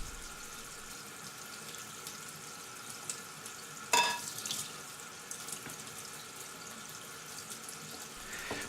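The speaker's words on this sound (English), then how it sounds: "Rinse them under the water a couple times and then dry them out on the paper towels too." A kitchen tap runs steadily while canned black olives are rinsed under it, a faint continuous water hiss with a brief clatter partway through.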